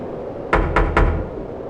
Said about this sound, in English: Like a hammer on wood.